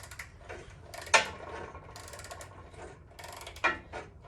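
Ratchet tightening a bolt on a Sears GT18 garden tractor transaxle, sparse close clicking with two sharper metallic clacks, fairly quiet.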